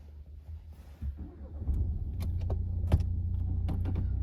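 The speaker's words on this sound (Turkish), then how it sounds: "Aracı çalıştıralım." A 2019 Renault Megane 4 with a 1.5 Blue dCi diesel and seven-speed automatic being started: a click and jingle, then the engine catches around one and a half seconds in and settles into a steady low idle, with faint clicks.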